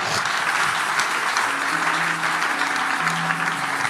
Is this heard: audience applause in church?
yes